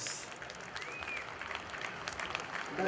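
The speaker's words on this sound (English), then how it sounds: "please give a round of applause" Audience applause fills a formal gathering as a man poses for photographs, steady dense clapping held at an even level from start to finish, with faint voices mixed into the crowd.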